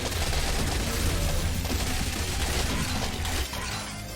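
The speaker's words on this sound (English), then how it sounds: "Hey, how about a Tesla gun?" A Tesla gun fires steadily at a horde of zombies in Yet Another Zombie Survivors, a continuous loud crackling, shattering barrage of electric zaps and hits that barely lets up.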